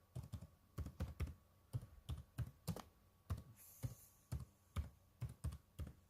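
Typing on a computer keyboard: a steady run of distinct clicking keystrokes in uneven rhythm, close and clear, with no talking.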